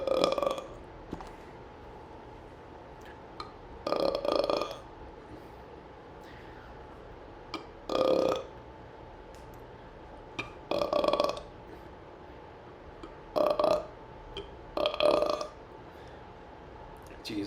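A person burps repeatedly while working on an English project, about seven short, weak belches spaced a few seconds apart, close to the microphone with quiet room noise between them.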